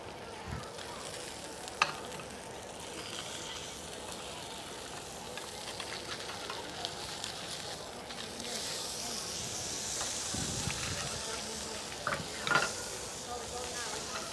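Potatoes fry in a hot pan with a steady, soft sizzle and the occasional scrape of stirring, set in the busy background hum of a food festival cooking demo.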